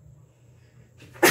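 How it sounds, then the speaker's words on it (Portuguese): A single sudden sneeze bursts out loud and close after a second of near silence with a low background hum. "É um espirro por isso."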